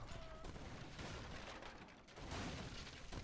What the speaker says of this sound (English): leather cannons are kind of doing work though.